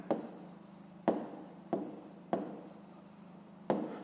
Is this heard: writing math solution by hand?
yes